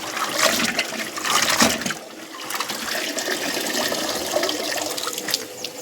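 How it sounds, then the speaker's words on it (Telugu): Soaped clothes are swished and rinsed in a tub of water by hand, making continuous sloshing and splashing close by, louder at first and then easing into a steady wet churn. "వాటర్లో జాడిస్తున్నానండి"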